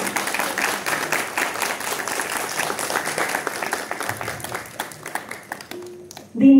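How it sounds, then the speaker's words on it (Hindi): Loud audience applause for performing artists at a felicitation ceremony, sustained dense clapping that thins toward the end before a brief loud sound closes the clip. "उसके लिए जोरदार तालियां होनी चाहिए"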